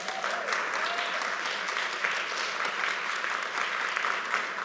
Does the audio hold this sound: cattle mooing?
no